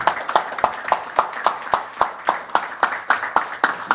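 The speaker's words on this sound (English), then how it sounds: "Can I have a big round of applause for our leadership here in Abu Dhabi" Small audience clapping at a Semafor event venue in Abu Dhabi, sparse and rhythmic with distinct individual claps in a steady beat, fairly close and moderately loud, no talking.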